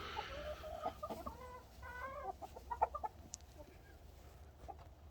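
Chickens cluck softly in short, scattered bursts, fairly distant and faint against a low background hum.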